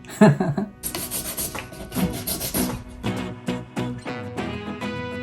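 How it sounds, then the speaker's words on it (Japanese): Repeated rasping strokes of coarse 120-grit sandpaper scuffing the painted surface of a picture frame, steady and close, with short pauses between passes. "そこで、ちょっと紙やすりをかけていきます。"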